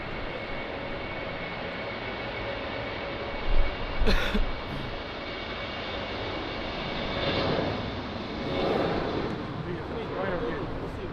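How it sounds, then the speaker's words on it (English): A United Boeing 787-9 airliner on final approach at Lisbon Airport in crosswind conditions, a steady broadband engine roar at moderate distance, swelling slightly toward the end, with a brief louder burst of noise partway through. "So next one on final, United with the 787-9."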